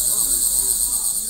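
A cricket kept as a fighting insect in China chirps in a steady, continuous high-pitched trill, close and fairly loud, with no voices over it.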